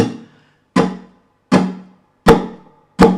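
Acoustic guitar strums, each combined with a thumb tap on the guitar body, five evenly spaced percussive strikes, close and loud, each decaying quickly before the next.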